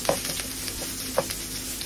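Garlic and ginger frying in cooking oil in a pan, a continuous sizzle broken by two sharp scraping stirs of a utensil, close and clear with no talk.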